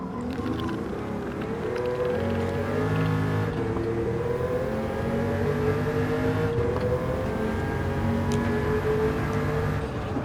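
Racing car engine in a lap-based driving video game, a loud sustained whine that rises and shifts pitch as the car accelerates and changes gear, droning continuously throughout.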